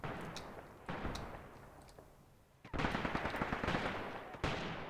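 Mortar rounds and gunfire in the Graviteam Tactics war game during a night battle at a bridgehead, a loud, dense rattle of bursts and rumbling impacts that swells and fades in waves.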